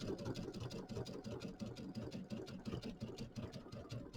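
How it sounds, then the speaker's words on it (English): Sewing machine stitching quilt binding into a corner, a steady, fast, rhythmic mechanical hum and chatter, soft and close, with no talking. "we're going to sew into the corner"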